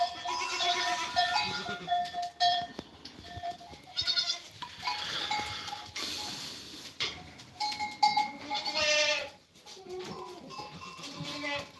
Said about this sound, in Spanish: mira qué chivina más guapa